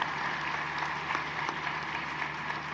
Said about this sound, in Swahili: Tunaomba tuwapigie makofi panelists wetu.